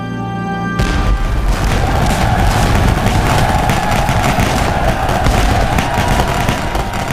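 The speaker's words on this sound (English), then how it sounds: "the roar of a 30-pound cannon broke the morning calm." A 30-pound cannon fires in a Civil War battle, a sudden loud boom after a brief quiet start that gives way to sustained rumbling, crackling battle noise.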